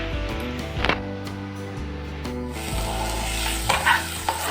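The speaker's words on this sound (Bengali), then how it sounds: "দেখো বসিয়ে দিয়েছি ভেন্ডি ভাজা, পেঁয়াজ কুচি আর ভেন্ডি" Okra frying with chopped onion in a home kitchen pan, steady sizzle under stirring, with a few clanks and scrapes of a utensil against the pan.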